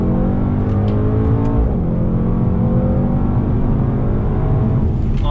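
A 2019 Mercedes-AMG GT 63 S luxury sedan accelerates hard on a track, its engine roaring loud and close, pitch climbing through a gear, dipping briefly at a shift, then rising again.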